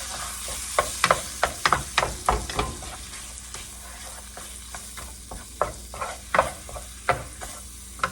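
Ground meat for a cheesy burger mac browning in a pan, with a steady low sizzle broken by repeated sharp scraping and stirring knocks from a utensil, close and alone without voices.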